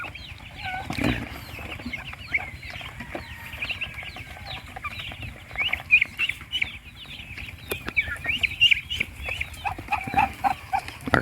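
Chickens, likely Muscovy ducks, are feeding on a small rural farm, with steady soft clucking and chirping calls, scattered pecking and a few wing flutters heard close by.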